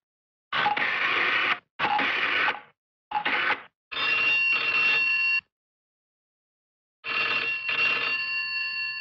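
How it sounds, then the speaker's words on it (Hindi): A telephone rings in bright, buzzing electronic bursts. Several short rings come in quick succession, then one long ring, and after a silent pause the ringing starts again, loud and close. "आज बहुत डार्लिंग वाले फोन आ रहे हैं"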